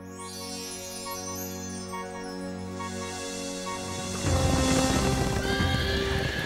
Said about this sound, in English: The King's Horses.